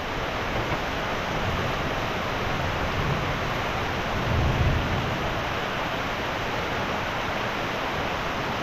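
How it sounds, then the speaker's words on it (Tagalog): Heavy, unbroken rain pours down beside a flooded river, a dense, even hiss that fills the whole scene at a steady moderate level, with no voices heard. "Walang tigil po ang ulan na eh."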